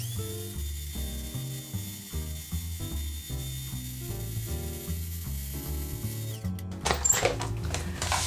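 An electric mixer whirs through vegan banana bread batter in short, rhythmic bursts, a close mechanical grinding that jumps to a louder, harsher whir near the end.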